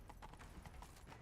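Horse hooves galloping in The Witcher 3 video game, a fast steady clip-clop rhythm, close and loud against dense game background sound, with no speech.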